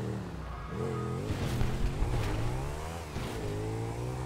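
A motorbike engine revs in a video game, a continuous tonal drone whose pitch climbs and dips repeatedly over a few seconds, loud and steady with no voices.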